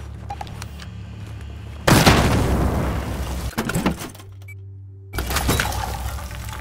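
Blasts go off in a military shooter video game, each a sudden loud boom with crashing, shattering debris, and a second burst follows a brief lull; close, heavy and harsh, with no talk.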